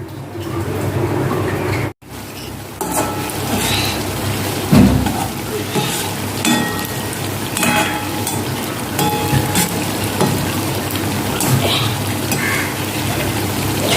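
Chhana (cottage cheese) fritters fry in hot oil, making a continuous crackling, rain-like sizzle close by. A few soft clunks and one brief dropout break the steady sound.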